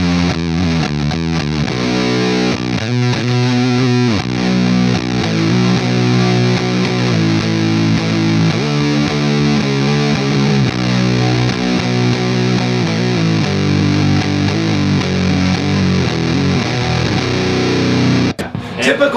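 Heavily compressed fuzz electric guitar played through a Sunn Model T clone amplifier, a thick, saturated riff sustaining loudly and continuously for the whole stretch before cutting off abruptly near the end.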